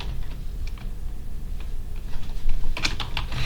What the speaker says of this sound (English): Let me type ICMP